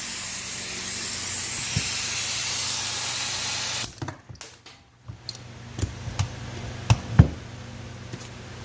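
Spray gun laying a coat of primer on a Fox Body Mustang body, a loud continuous hiss for about four seconds that cuts off abruptly, followed by scattered knocks and ticks of handling.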